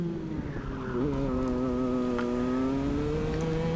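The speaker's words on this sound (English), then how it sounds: "Accelerating back up through the gears," Race car engine climbing through the gears during qualifying, a steady rising drone that drops briefly at each shift and builds again, loud and close with no talking.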